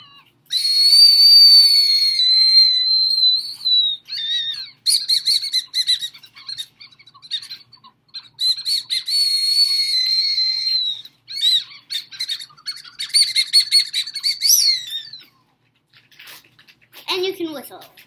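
A shrill, high-pitched Japanese whistle candy is blown in long sustained toots and short warbling bursts, close up, with pauses between blows.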